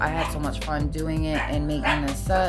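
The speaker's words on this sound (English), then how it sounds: "Please excuse my dog." A pet dog barks and yips repeatedly in a home craft space, close by, its sharp calls mixed in with a person talking continuously.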